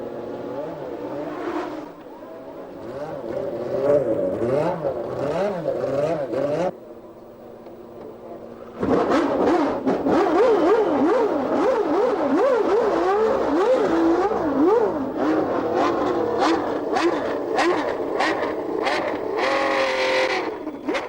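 A Ferrari Formula One car sets out on track for practice, its high-pitched engine revving and climbing through gears up close, with a short lull midway before the loud screaming engine returns and carries to the end.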